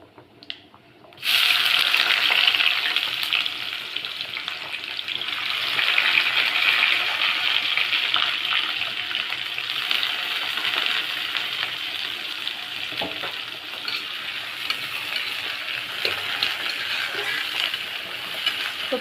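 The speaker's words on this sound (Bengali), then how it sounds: "তো পেঁয়াজটা দেখো এখন ভেজে নেওয়া হচ্ছে।" Chopped onion frying in a pan for a jackfruit curry, a steady broadband sizzle that starts abruptly after a quiet moment and continues evenly, with occasional stirring.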